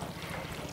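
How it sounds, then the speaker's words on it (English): Cooked pasta tipped into a bowl of dressing for a creamy pasta salad, a brief wet, dense slide and clatter heard close up. "we're gonna dump our pasta"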